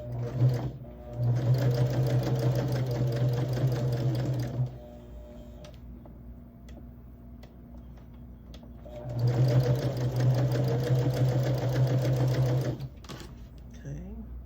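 A sewing machine chain-pieces patchwork quilt blocks in two sustained stitching runs of about four seconds each, close and steady, separated by a quieter pause with light handling sounds.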